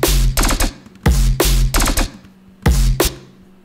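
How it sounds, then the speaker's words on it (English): A metronome clicking during a drum and bass music production session, loud sharp clicks in short repeating groups of three with brief gaps between them, heard alone and close. "Who the fuck turned on the metronome?"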